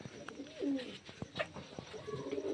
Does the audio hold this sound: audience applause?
no